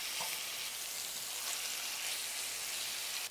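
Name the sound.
chicken searing in a Dutch oven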